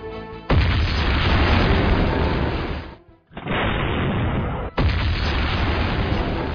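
Explosion of a Basir laser-guided munition striking its target: a loud, sustained blast roar that cuts off abruptly, then a second heavy burst follows and rumbles on to the end.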